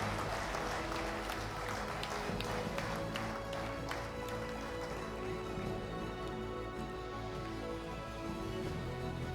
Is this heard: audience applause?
yes